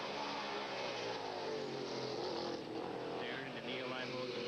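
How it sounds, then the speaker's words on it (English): An Oldsmobile Trans-Am race car in a 1990 SCCA race at Des Moines broadslides around a corner, its engine a constant distant drone under a commentator's voice. "broadslide his Oldsmobile around the corner and pass Zeeb, the slower car"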